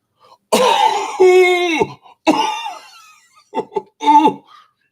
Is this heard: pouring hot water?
no